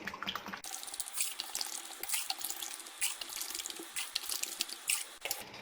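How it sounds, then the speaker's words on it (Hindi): Water pours steadily into a cooking pot holding sugar, a continuous splashing stream that starts abruptly and runs throughout. "पतीले में चीनी डालेंगे 1 कप और 5 कप पानी डालेंगे।"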